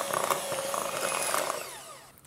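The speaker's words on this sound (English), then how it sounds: "And then use the whisk to just mix it together." A whisk mixing icing sugar for a mini egg cake makes a steady, fairly loud whirring for about two seconds before it trails off.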